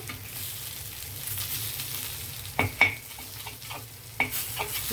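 Fish pieces frying in a pan, a soft continuous sizzle close by, broken by a few sharp scraping clicks as the pieces are turned, with no talking.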